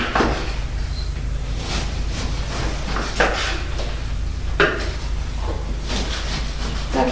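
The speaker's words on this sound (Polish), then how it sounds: "kroimy sobie kromeczki" Knife cutting slices from a homemade loaf of bread, with a steady run of repeated sawing strokes and soft thuds on a board, close and clear, no talking.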